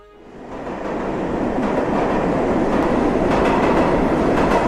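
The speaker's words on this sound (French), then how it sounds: "Retournons donc sur nos pas, et allons prendre le métro, Luc." A metro train rumbles in a French audio drama, its noise swelling over the first half second into a steady, loud rolling roar with faint clattering, and no one speaking.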